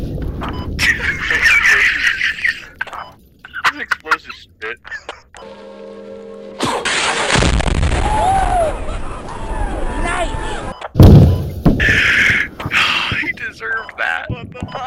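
A VBIED car bomb explosion in the video game Squad: a sudden loud blast bursts out, with sustained noisy rumble and debris-like hiss around it, and chattering voices mixed in before and after.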